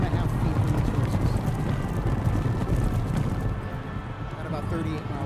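Horses galloping at about 38 miles an hour, filmed from roughly four and a half feet away: a dense, continuous rumble of hooves, loud and close, with no clear separate beats.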